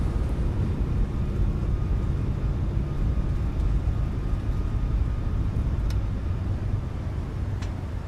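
Boeing 737 MAX at takeoff power during the roll and climb in Microsoft Flight Simulator 2024, a loud continuous low engine rumble and roar with a couple of faint clicks.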